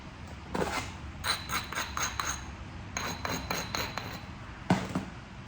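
Quartzite being knapped to remove a thinning flake, heard as sharp stone-on-stone strikes in quick clusters of taps separated by pauses, close and crisp.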